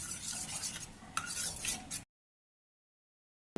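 A spoon stirs chili powder and coriander-cumin powder into a pan of desi chana curry, giving a close, scraping, clinking churn for about two seconds before it stops abruptly.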